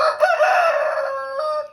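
A single Aseel rooster crows nearby, one loud drawn-out call lasting under two seconds, with nothing else audible.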